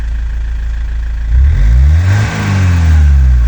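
A minivan engine with a smoking, spark-spitting exhaust idles low, then revs hard several times, pitch rising and falling in loud, close surges.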